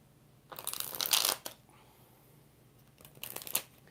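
Tarot cards are shuffled in two close, crisp bursts of riffling and slapping, the first longer and the second shorter after a brief pause, with quiet in between.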